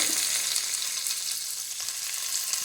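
Green chilli, ginger and onion pieces frying in oil with roasted peanuts, a steady close crackling sizzle with faint stirring, no talk.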